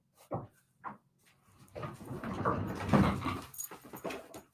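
A dog indoors gives a few short whimpers, then a longer stretch of soft whining and shuffling movement with faint household clatter, fairly quiet and close.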